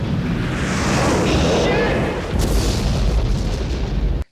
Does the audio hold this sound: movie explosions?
yes